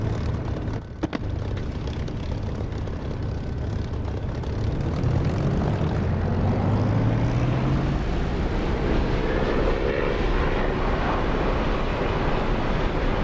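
An aircraft in the DCS flight simulator game takes off, a loud, continuous engine and propeller drone rising in pitch as it speeds up along the runway, with no talking.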